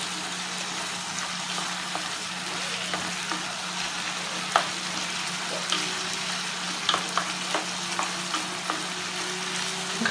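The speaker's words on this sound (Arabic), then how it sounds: "نخلوها تزيد تقلى شويه قبل ما نزيد الطماطم" Paella ingredients fry in a pan with a dense, continuous sizzle and crackle, occasional soft scrapes and pops, close up over a faint steady hum.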